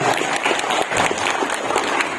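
Brief applause from an event audience in a hall, a dense, even wash of many hands clapping at close range with no voices over it.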